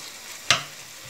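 A single brief sizzle as onion, tomato, ginger-garlic paste and spinach for palak paneer are stirred in a hot pan, a short sharp burst that fades into quiet.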